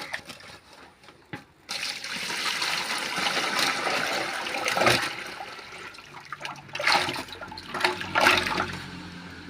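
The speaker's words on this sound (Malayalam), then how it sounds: "വെള്ളം ഒഴിച്ചു കൊടുക്കും." Water is poured out in uneven gushes and splashes, loud and close, with brief pauses between surges, alongside a well.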